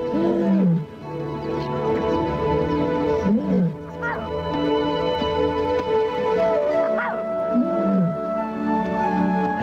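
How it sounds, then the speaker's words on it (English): An old lioness in the wild calls for her lost daughter, giving deep, moaning roars in a repeated rhythm, close and loud and heard alone. "The old lioness calls to the daughter she could not find."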